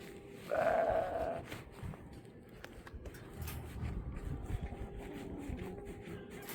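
Goat bleating inside a chicken pen on a Texas farm, one clear close bleat near the start, then outdoor wind and faint rustling with softer animal sounds further off.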